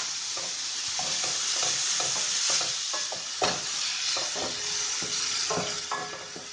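Green chillies and peas sizzling and frying in a pan, with a steady crackle and repeated stirring scrapes throughout, close and fairly quiet, no talking.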